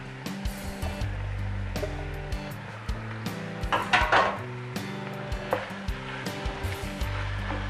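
A utensil breaks up chorizo with its casings removed and ground beef in a pan on the stove, giving repeated scraping clacks against the metal over a low sizzle, with sharper knocks spaced irregularly.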